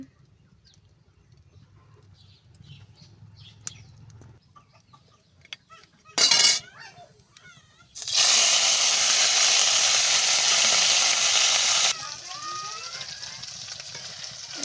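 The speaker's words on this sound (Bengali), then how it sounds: "এই দেখো চিংড়ি মাছ দেওয়া গেছে, লবণ হলুদ দিয়ে চিংড়ি মাছটা ভেজে নেব, ভালো করে ভেজে নেব।" Small shrimp with salt and turmeric hitting hot oil in a kadai, a loud sudden sizzle that holds for several seconds then settles into a softer steady frying hiss, with a few quieter stirs and clatters before it.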